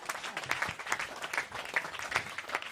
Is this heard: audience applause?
yes